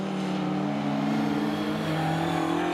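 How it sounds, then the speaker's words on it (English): Autograss race cars roar around a dirt track at a meeting, a loud sustained engine drone with rising and falling revs from several cars at middle distance. "as Dave Mansfield takes him round that bottom corner past the grandstand and up that far side"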